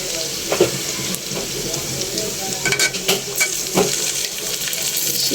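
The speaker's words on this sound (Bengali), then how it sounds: "এখন আমি আদা বাটা দিয়ে দিব এখানে।" Ginger paste goes into onions frying in a pan, giving a continuous close sizzle broken by a few sharp clinks and scrapes of stirring.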